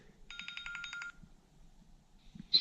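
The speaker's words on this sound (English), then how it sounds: "my phone is ringing" A mobile phone rings with a rapid, pulsing electronic ringtone for about a second, then stops, leaving faint background noise and a brief sharp click at the end.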